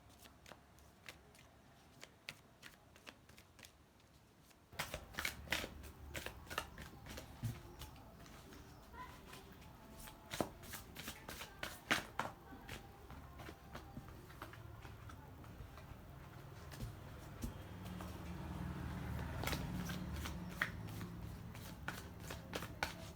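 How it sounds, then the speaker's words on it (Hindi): Tarot cards shuffled and drawn from a second pile, a run of crisp riffling flicks and soft slaps close by, with quiet handling noise between bursts. "कुछ और कार्ड्स भी लेंगे"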